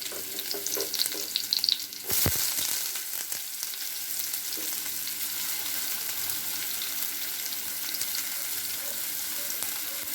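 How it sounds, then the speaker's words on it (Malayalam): Onions sauté in hot oil in a pan with a continuous, fairly quiet crackling sizzle, a burst of louder clatter near the start, then steady frying alone with no speech. "ഇനി നമുക്ക് ഇതെല്ലാം കൂടെ ഒന്ന് വാട്ടിയെടുക്കാം"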